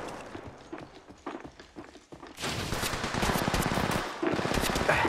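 Submachine gun fire in an online squad shooter game, heard as a dense rapid burst of loud shots that rises and holds for several seconds after a quieter stretch of scattered distant cracks.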